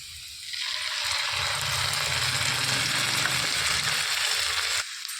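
Egg pepper roast sizzling and frying in a pan, a steady broadband hiss rising after a quiet start and holding loud and close before cutting off near the end.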